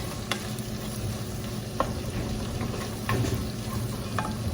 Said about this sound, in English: You can just use onion and chili in oil. Saute it.